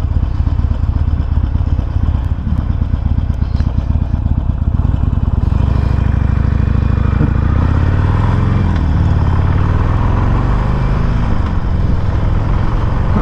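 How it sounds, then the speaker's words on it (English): A 2021 Harley-Davidson Iron 1200 motorcycle engine running, a loud, close, continuous low rumble with mechanical clatter that shifts in pitch midway, with no talking over it. "Nice, pleasing motorcycles."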